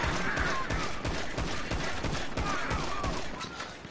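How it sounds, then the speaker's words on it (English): Dense, rapid gunfire rattles without pause in a police roleplay video game, overlapping bursts of shots ringing out loud and close throughout, with faint voices underneath. "shots fired"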